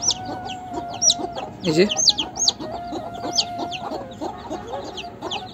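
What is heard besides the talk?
newly hatched Silkie chicken chicks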